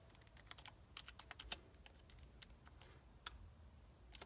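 Keys clatter on a brand-new RGB computer keyboard, close up, in irregular bursts of crisp clicks with short pauses between strokes, with no voices over the typing.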